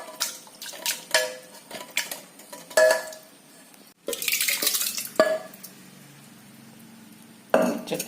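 Food scraped and spooned into a clay pot for a buttermilk curry with ground paste, with repeated clinks and scrapes of a utensil against the pot, then a louder burst of rustling scraping and a final clatter, close by without talk.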